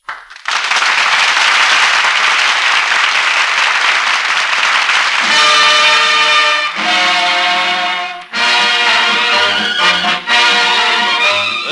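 A radio studio audience at a wartime variety broadcast applauds loudly and steadily for several seconds, dense clapping that carries on as music swells in beneath it.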